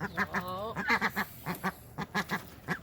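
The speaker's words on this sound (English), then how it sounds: "Reagan, it's very important for ducks to have water like this so they can clean themselves." Several ducks quack in rapid, repeated, nasal calls while drinking and bathing in water, close and fairly loud, with overlapping calls keeping a steady rhythm.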